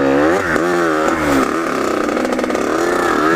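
A dirt bike engine revs hard and steadily while riding along a bumpy trail, its loud, buzzing note rising and falling close to the listener throughout.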